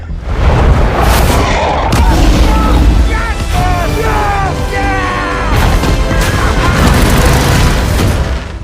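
Loud, continuous cinematic soundscape from the Anaconda (2025) film, with heavy low booms and crashing blasts as a giant titan anaconda is killed by a powerful explosion, dense rumbling throughout with brief voices mixed in.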